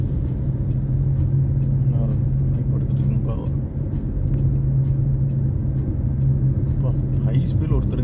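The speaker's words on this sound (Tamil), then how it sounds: "தடப்படன்னு அடிக்குங்க வண்டி." A vehicle travelling along a rough, badly broken road, giving a constant loud low rumble with scattered knocks and rattles, while a person talks over it.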